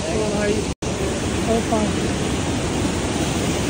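A river rushes steadily and loudly on a rough mountain trail where hikers must cross it, the broadband roar filling the whole clip with a brief dropout near the start and faint voices beneath.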